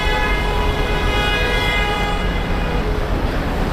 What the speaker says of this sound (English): Keep honking, you'll get there faster.